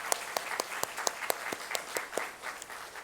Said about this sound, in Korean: 우리 하나님께 영광의 박수를 한번 올려드리길 원합니다.